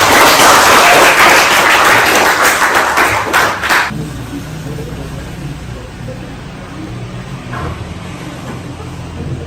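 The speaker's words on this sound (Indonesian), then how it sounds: "Tapi kalau kalian sudah memberikan yang terbaik, kita kasih aplaus." A classroom of students breaks into applause at a vocational high school, with dense clapping filling the first four seconds before it stops abruptly, leaving a quieter room with faint voices and background noise.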